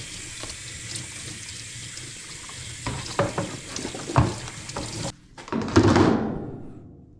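A washing machine part is rinsed under running sink water, a close splashing hiss broken by clatters and handling knocks, briefly cut off and then surging again before ending.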